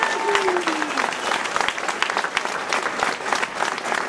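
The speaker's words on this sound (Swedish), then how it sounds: "dra en jättestor applåd för Peter Eriksson också" An audience at a Red-Green party leaders' event in Växjö applauds Peter Eriksson, a loud, dense wash of clapping that holds steady for about four seconds, with a brief whistle-like tone early on.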